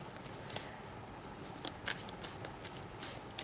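Tarot cards are being shuffled by hand in soft, quiet bursts of riffling and slapping, faint and close, with no talking.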